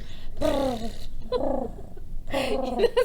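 A voice imitates a cat's purr in three short rolling bursts separated by brief pauses, close and clear.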